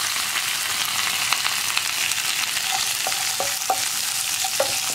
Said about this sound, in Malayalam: ഇഞ്ചിയും വെളുത്തുള്ളിയും നന്നായിട്ടൊന്ന് കുക്കായി വരണം. ഒരു മിനിറ്റോളം ഒന്ന് ഇളക്കി കൊടുക്കാം.